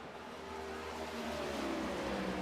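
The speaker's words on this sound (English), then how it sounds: "Because those cars, they're loud in my ear" Race cars at the Glen roaring close past a trackside camera, a steady loud engine drone that rises in pitch as the cars accelerate by, with no talking.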